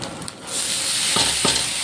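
Tomatoes going into a hot pan for a Kannada cauliflower bhaji: a quiet start, then a loud, sustained sizzle swells up with a couple of clattering stirs near the end, no voices.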